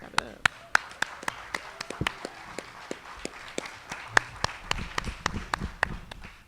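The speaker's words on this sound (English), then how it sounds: "Let's clap it up." At a public hearing of a reparations task force, scattered clapping rings out as sharp, distinct claps from a modest number of people, fairly close, with quiet murmuring underneath.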